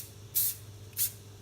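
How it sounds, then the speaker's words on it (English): Two short, sharp bursts of Coles extra virgin olive oil spray hiss into a pan about half a second apart over a low background hum. "we're going to get this Coles extra virgin olive oil spray and just lightly spray"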